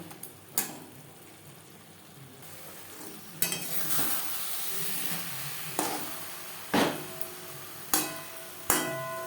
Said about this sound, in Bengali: মশলার সাথে অমলেট বেশ ভালো করে মিক্স করে দেব এক দু মিনিট নাড়াচাড়া করে নেব